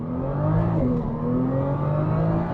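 Nissan GT-R NISMO R35 with 76,000 hard miles on its original engine, after a transmission rebuild, accelerating at wide open throttle; a loud, continuous rising engine roar heard from inside the car, no talking.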